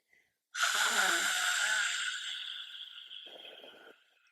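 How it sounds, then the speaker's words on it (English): A forceful yoga lion's breath exhalation, one long, loud, breathy rush of air out through the open mouth, tapering off over about three seconds, close to the listener. "Do a lion's breath."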